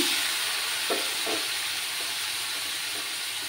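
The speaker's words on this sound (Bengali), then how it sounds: "ভালো করে মশলাটাকে কষিয়ে নিতে হবে। সামান্য একটু গরম জল দিচ্ছি আমি" Spices frying in a pan with a splash of hot water give a steady, close hiss of sizzling and steam, with a few soft stirring scrapes and no talk.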